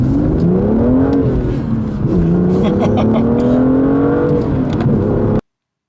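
A 2017 BMW M2 coupe engine running as it warms up, a loud steady drone whose pitch rises and dips with throttle changes, heard close from inside the car before cutting off abruptly.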